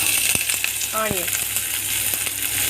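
Garlic frying in hot oil for a lotus stem gravy, a constant crackling sizzle with a few sharp utensil taps and a short metallic ring partway through.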